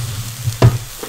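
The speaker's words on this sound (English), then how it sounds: "so we've got the chili and the onion frying away here" Chili and onion frying in oil in a pan for prawn noodles, a steady low sizzle with a brief louder burst of crackle midway, close and alone with no talk.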